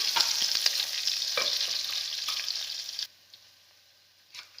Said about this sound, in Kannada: ಶುಂಠಿ ಎರಡು ಹಾಕಿ ಸ್ವಲ್ಪ ಫ್ರೈ ಮಾಡಿ ಚೆನ್ನಾಗಿ